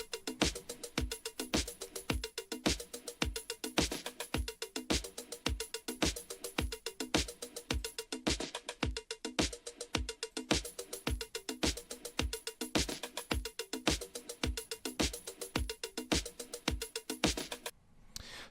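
Two vinyl-sampled drum loops layered together play a steady, punchy repeating beat with crisp hi-hats, running alone without talk before cutting off abruptly at the end.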